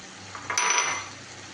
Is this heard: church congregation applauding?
no